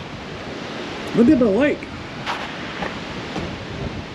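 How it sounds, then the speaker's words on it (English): Strong wind buffets the microphone at Granger Lake, a steady broadband rush throughout, while someone speaks briefly over it. "Man, it is windy today."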